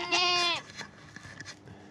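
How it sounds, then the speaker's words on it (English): Goats bleat loudly at feeding time, one strong wavering cry up close followed by fainter, scattered bleats and shuffling farmyard noise. "goat feeding time"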